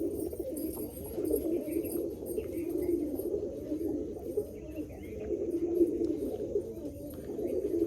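A mechua pigeon held in the hand gives a steady low rolling coo that runs on for several seconds, close and fairly loud, with a little background noise and no clear talk.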